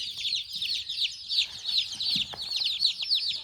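Freedom Ranger broiler chicks peep continuously in a lively chorus of high, chirping calls close by, with faint background bumps and no talking.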